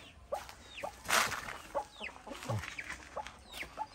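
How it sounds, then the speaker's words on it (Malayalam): Aseel hen, a fighting-breed fowl shedding her tail feathers, gives short clucks and chirps at a farm, with other birds calling around and brief rustling; the calls come in scattered bursts at moderate distance. "ഒരു കോഴി പെടയാണ്."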